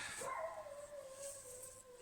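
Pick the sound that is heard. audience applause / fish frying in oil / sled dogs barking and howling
sled dogs barking and howling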